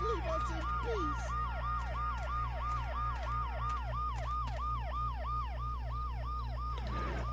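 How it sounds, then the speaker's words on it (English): An ambulance siren in the video game Dead Synchronicity wails in a steady, fast up-and-down pattern, loud and continuous throughout over a low engine drone, with no talk. "The noise the ambulance makes will cover the sound of the glass breaking."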